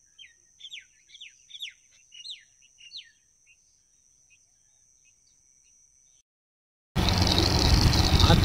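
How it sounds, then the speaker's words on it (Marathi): Various birds chirp and sing after overnight rain: a few quick, thin calls in bursts over the first few seconds, then quiet, then a sudden loud rush of noise. "वेगवेगळ्या पक्ष्यांचा आवाज येतोय"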